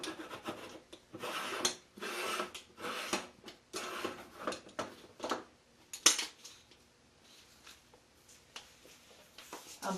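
Repeated rasping, rubbing scrapes of metal on metal as a Cuban greca stovetop coffee maker is screwed closed, a steady series of short twisting strokes, close and fairly quiet, with no talking.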